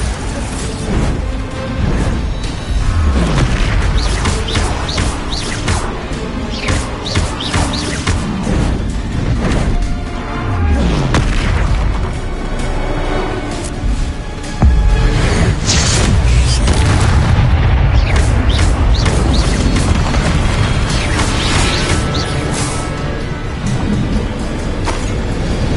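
Bombarda spell blasts in the video game Hogwarts Legacy, a run of loud booming explosions and bursts repeating throughout with dense crashing debris, heavy and close, with no speech.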